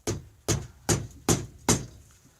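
Five sharp, hard hammer blows strike a wooden block against a knot in a snowmobile pull-start rope at a steady, even pace, each thud ringing briefly before the next; no voices.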